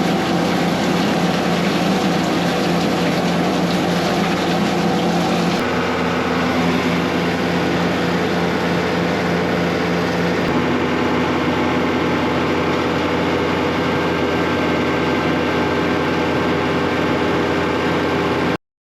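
A drain jetting machine on a combi unit runs steadily while jetting a sewer main line through manholes in a flooded courtyard, a loud continuous engine drone with hose hiss that shifts pitch slightly a few times.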